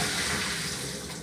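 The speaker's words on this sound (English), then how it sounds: "I'm going to strain it over the sink." Cabbage water pours out of a strainer into a kitchen sink in one continuous splashing rush that fades slightly toward the end.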